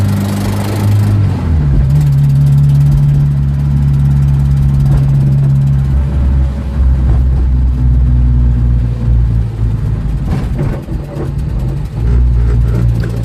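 A Volvo 140 Turbo carbureted coupe engine idles and revs with a steady low drone, pitch rising and settling as it warms up, close and loud with no talking.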